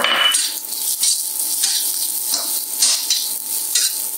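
Slivered ginger frying in a pan for nasi goreng: a steady bright sizzle, with the utensil scraping and stirring at a roughly regular pace, close and fairly loud, no talking.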